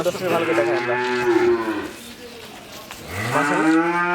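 Two long, loud moos from a Holstein Friesian heifer on a farm, each a deep drawn-out bellow, separated by a short pause and heard close by.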